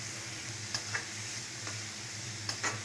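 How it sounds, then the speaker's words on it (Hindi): A paste of ground garlic and a small onion fries in a kadhai for a Chhattisgarhi dubki dish, giving a soft steady sizzle with a few light scraping stirs and ticks, no speech. "अब इसे थोड़ा भूनेंगे,"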